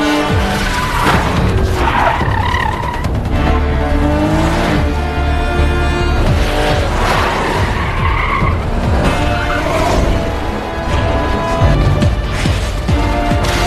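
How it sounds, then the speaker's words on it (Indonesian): A car tears away in a film chase from The Gangster, The Cop, The Devil, with loud continuous engine roar, screeching tires and skidding throughout, mixed with dramatic soundtrack tones. "Dengan cepat, ia menancap gas dan pergi dari sana."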